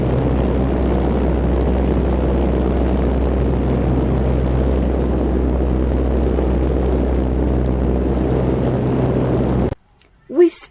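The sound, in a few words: airplane engines in full reverse thrust while landing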